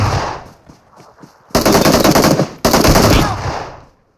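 Automatic gunfire from the PUBG video game plays in two loud, dense bursts of rapid shots, one after the other, preceded by quieter scattered game sounds.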